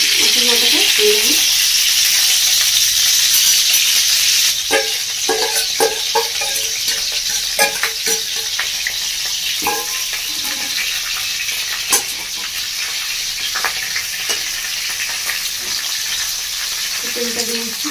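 Fish head frying in oil in a wok, a loud steady sizzle that swells briefly when it goes in, with scattered clinks and stirring and a voice talking faintly at times.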